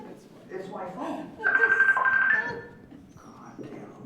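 Mobile phone ringing nearby with a steady electronic tone for about a second, surrounded by people talking.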